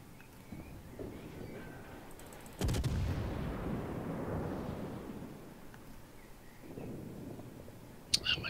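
Ship guns fire in a naval battle video game, one heavy booming salvo crashing in and rumbling away over several seconds, with a sharper shot near the end against a low background rumble.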